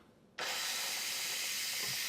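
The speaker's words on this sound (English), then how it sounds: "I'm gonna release the pressure." An electric pressure cooker abruptly vents steam, a loud sustained hiss bursting on after a quiet start and continuing steadily close by.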